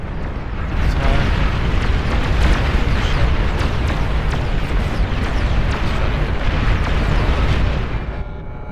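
Artillery firing and explosions in the real-time strategy game Beyond All Reason, a dense, continuous barrage of booming blasts and sharp cracks layered over one another, loud and sustained for several seconds.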